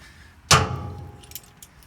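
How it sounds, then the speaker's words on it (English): A bunch of keys jangles once in a sharp, close metallic rattle, then settles into a few faint clinks. "Oops, left my tools in there. And my keys."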